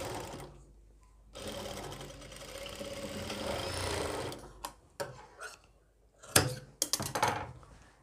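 A sewing machine stitches a medical nurse coat in a steady run of several seconds, then stops and gives way to scattered handling thunks and clatter close by.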